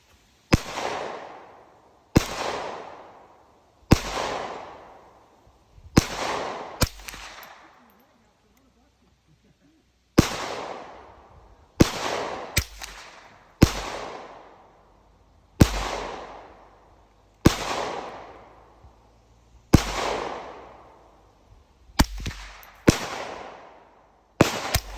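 Suppressed gunshots ring out one at a time in a steady series of about fifteen sharp, loud reports, each trailing a short decay, with a few quicker doubled shots and no talking.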